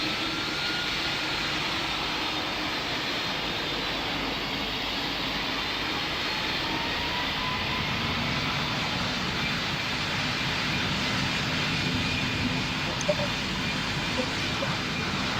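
An airliner powers up for takeoff in Roblox Pilot Training Flight Simulator, a steady, moderate jet engine whine and rumble that holds evenly throughout with no clear breaks.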